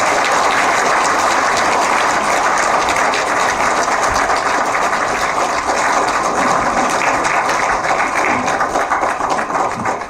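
A crowd at a book launch lecture applauding steadily and loudly throughout, a sustained wash of many hands clapping with no pauses.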